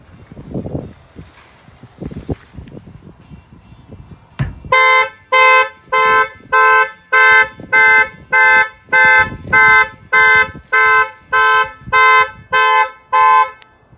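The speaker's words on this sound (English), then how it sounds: "I'm going to go ahead and trigger the alarm." A 2018 Mercedes C300 car alarm blares after a few seconds of rustling and handling noise, sounding about fourteen loud, evenly spaced horn-like pulses in a steady rhythm, close by and with no talking.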